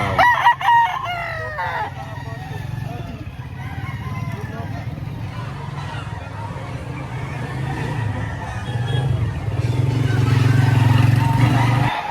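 A rooster crows loudly near the start at a poultry market in Lipa, Batangas, its call rising and falling, followed by a steady low hum of traffic or engine noise with faint voices.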